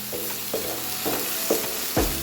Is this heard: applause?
no